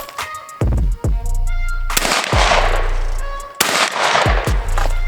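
Sharp, loud gunshots at an outdoor shooting range, fired as single blasts and quick pairs, each cracking sharply and then echoing into a decaying tail, with faint talk between shots.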